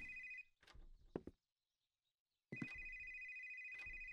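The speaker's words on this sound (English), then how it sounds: "Oh no, this is the second call." A telephone rings indoors in two bursts of steady electronic trilling, one short and one longer, with brief knocks and thuds between them.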